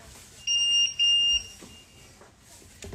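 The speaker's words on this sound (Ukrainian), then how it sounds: "Плиту витираю, вона пищить." An electric stove's control panel beeps twice in quick, loud tones while its surface is wiped, with faint rubbing and light clatter in between.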